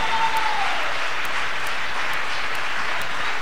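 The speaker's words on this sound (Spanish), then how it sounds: "Vamos a aplaudirle a Dios por eso." Sustained applause from a church congregation fills the space, a dense, even wash of many hands clapping at steady volume throughout, with no voices standing out.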